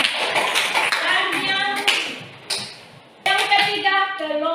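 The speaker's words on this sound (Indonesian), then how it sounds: "Berikan aplaus buat kelompok" Classmates clapping for a student group after its presentation in a school civics lesson, scattered claps heard under and between a teacher's spoken remarks.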